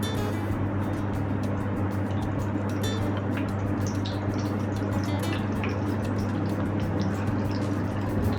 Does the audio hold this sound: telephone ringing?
no